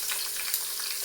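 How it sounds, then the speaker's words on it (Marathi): Tomato and chili paste sizzles in hot oil on a griddle, a steady bright frying hiss that runs without a break, close and fairly loud, with small crackling pops. "हे टमाटर मिरची वाटलेली ही तव्यावर टाकली, तेलामध्ये तेल टाकल्यावर."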